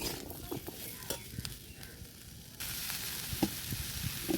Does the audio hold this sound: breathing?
no